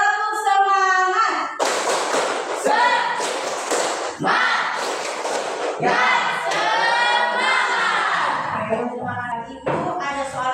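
A group at a briefing repeats a rhythmic cheer clap: patterned bursts of hand claps interleaved with voices chanting together, near and loud, running for about ten seconds.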